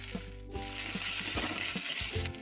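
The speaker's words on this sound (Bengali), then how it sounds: "আমি পেঁয়াজটা দিয়ে দিচ্ছি পেঁয়াজটা একটু ভাজা ভাজা হোক" Onion, grated ginger and green chilli sizzle steadily in a hot pan, with a bright frying crackle throughout and occasional soft knocks of stirring.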